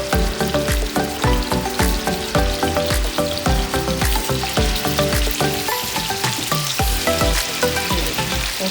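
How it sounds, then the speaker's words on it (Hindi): Koftas (egg-stuffed nargisi koftas) frying in plenty of hot oil: a dense, continuous sizzle and crackle, loud and close, with no talking over it. "तो मैं ये कोफ्ते इसमें फ्राई कर रही हूँ।"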